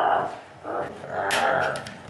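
A person makes low, rough growling noises with the voice, imitating an animal growl, in a few drawn-out bursts while pulling black and white film off its spool for developing.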